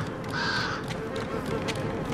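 A crow caws in a horror video game trailer, a hoarse call repeated a few times over a steady dark ambient bed, fairly close and clear.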